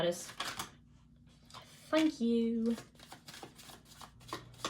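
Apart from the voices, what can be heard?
tarot cards being shuffled by hand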